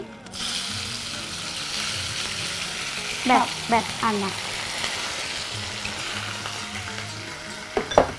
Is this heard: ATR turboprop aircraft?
no